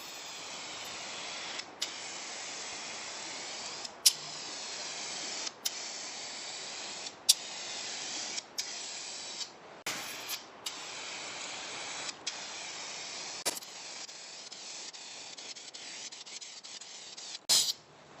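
Spray paint cans lay a light first coat on a kei truck, heard as repeated hissing bursts of aerosol spray separated by short clicks and pauses, fairly close and with no talking.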